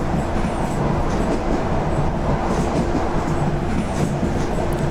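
A BB26000 electric locomotive hauling a freight train in a rail simulator gives a steady, continuous rumble of rolling stock with soft rhythmic wheel clatter, close and even throughout.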